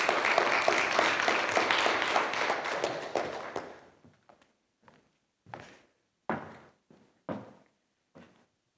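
Audience applause at an artificial intelligence conference in Berlin following a panel, dense clapping for about four seconds that fades out, then a few sparse, scattered claps trailing off.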